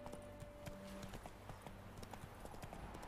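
Horse hooves clip-clopping steadily at a walk in The Witcher 3 video game, a close rhythmic clatter over ambient game music.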